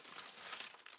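A small piece of crafting tape handled in the fingers, giving a short, close, crinkly rustle with quick crackling bits.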